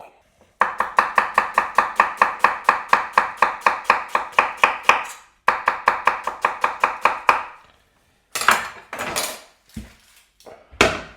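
Onions being chopped with a knife on a board, a fast, even run of sharp, loud thuds with a brief pause, then a few heavier, irregular chops near the end.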